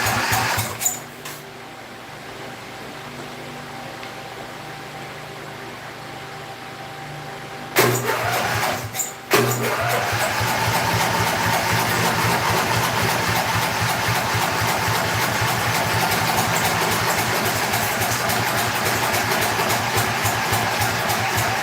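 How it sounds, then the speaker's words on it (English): A small carbureted engine cranks briefly and then catches, settling into a loud, steady running drone close by, with no talk. "check the suction on this engine"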